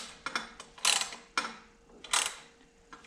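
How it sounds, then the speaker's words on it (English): A wrench tightens engine header bolts on a Saleen 562 car, making close, brisk ratcheting clicks in short bursts with pauses between turns. "So once I tighten them all, just to see kind of what the feel of them are, I'll do it with the wrench."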